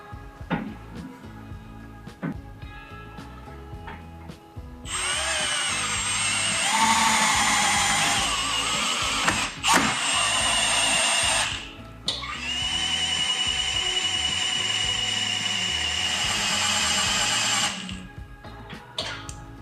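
A power tool tightening fasteners on a Jeep Gladiator truck bed rack gives two long, loud whirring runs separated by a short pause, with quieter clicks and handling noises before them.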